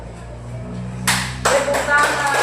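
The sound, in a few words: hand clapping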